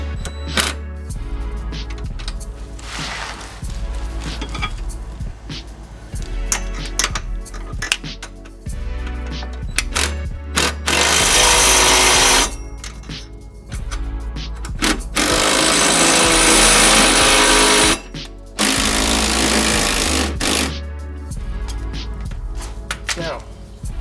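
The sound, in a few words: power tool tightening bolts on a rear sway bar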